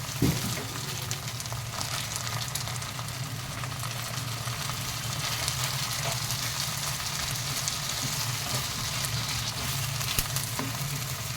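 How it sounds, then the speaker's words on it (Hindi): Ginger and garlic frying in a pan make a continuous, even sizzle, close and fairly loud, with a faint low hum under the crackle and no talking. "अदरक लहसुन को थोड़ा भून लेंगे।"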